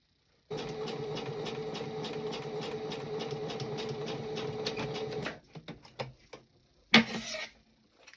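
A sewing machine stitches around folded, ironed fabric in a fast, steady mechanical whir, then stops and gives a few short bursts and clicks near the end.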